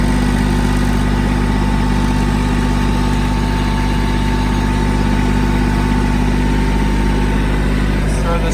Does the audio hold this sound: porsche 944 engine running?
yes